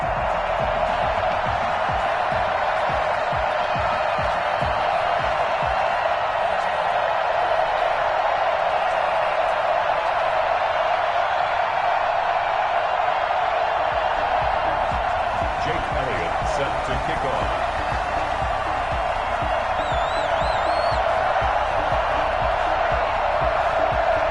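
Crowd noise in an EA Sports football video game as the Tampa Bay Buccaneers and New York Jets get set for a Week 11 matchup, a steady, loud stadium roar running throughout under continuous commentary.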